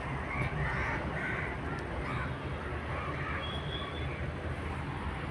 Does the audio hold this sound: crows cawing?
yes